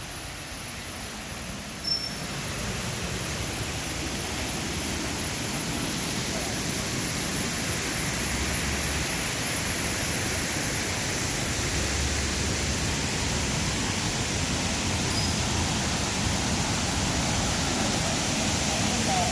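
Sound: Vattai waterfall rushing water

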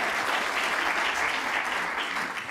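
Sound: audience applause

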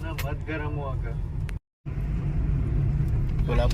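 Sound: road traffic noise in Kolhapur

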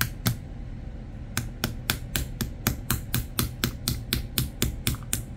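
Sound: screwdriver tapping drone motor bearing out

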